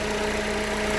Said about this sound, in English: the engine's still working 15 minutes after starting it